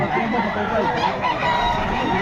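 Many chickens clucking and crowing together at a pet market in Malolos, a busy continuous din of poultry close by, with faint human voices mixed in.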